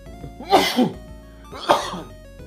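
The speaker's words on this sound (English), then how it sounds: "Give me 1 second, I have to sneeze." Two sharp bursts of breath close to the microphone, a sneeze-like explosion followed by a second shorter one, with quiet in between.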